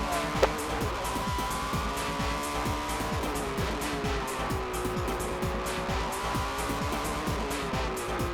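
A Honda NSX race car driven hard at the limit on a circuit, its engine note rising and falling through rapid gear changes, loud and continuous with repeated downshift blips, no voices.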